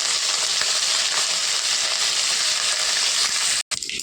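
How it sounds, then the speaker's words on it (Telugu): Tempering spices with curry leaves fry in hot oil for a telagapindi curry, giving a loud, close, continuous crackling sizzle that breaks off abruptly near the end. "చూడండి, పోపు వేగింది."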